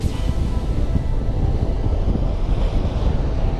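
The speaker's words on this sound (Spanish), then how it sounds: "El mar está entrando." Sea waves rolling in on the beach at Playa Unión, a continuous, loud wash of surf blended with gusting wind noise on the microphone, with no voices.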